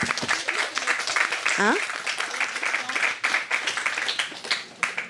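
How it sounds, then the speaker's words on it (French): Applause from a conference audience at the close of a panel discussion on sexism in video games, a dense sustained clatter of clapping throughout with a voice speaking briefly over it. "On peut s'applaudir une dernière fois et après on y va."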